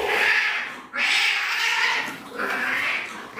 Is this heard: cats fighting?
yes